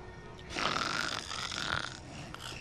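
A person snores in a bedroom at night, one long rough rasping breath swelling up and trailing off, close and moderately loud, with a faint hum underneath.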